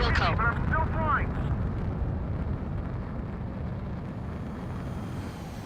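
Explosions rumble through an Ace Combat 7 Skies Unknown air battle with an F-35C over a downtown area, a heavy low roar that slowly fades after a voice speaks over the opening moments.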